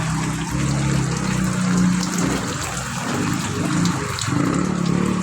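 Floodwater rushes steadily through a submerged street during the rainy season, a loud, continuous watery wash that stays close and unbroken throughout, with no voices over it.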